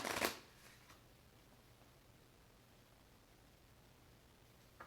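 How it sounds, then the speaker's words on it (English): A deck of playing cards is shuffled during a tabletop card game, a sharp riffle burst at the start followed by soft, faint handling noise, with no talking. "And I will shuffle."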